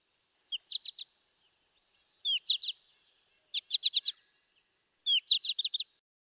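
American goldfinch flight calls ring out from birds passing overhead in winter: four short clusters of rapid, bright, high chirps, each a quick stuttering series of three to five notes, clear and isolated against silence.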